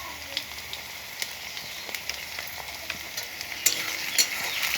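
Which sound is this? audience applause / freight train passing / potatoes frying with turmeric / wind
potatoes frying with turmeric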